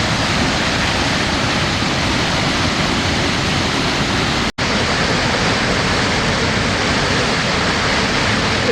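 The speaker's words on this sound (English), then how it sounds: "That water's really rushing over that fall right now." Moxie Falls in northern Maine in spring, high flow: a loud, constant broadband roar of rushing water from close by, unbroken apart from a momentary cut near the middle.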